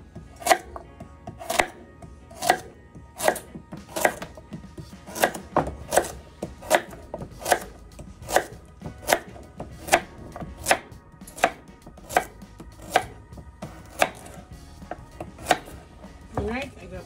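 Carrots chopped with a knife on a board for a Jamaican carrot punch, about twenty crisp, evenly spaced chops in a steady rhythm, loud and close with no talking.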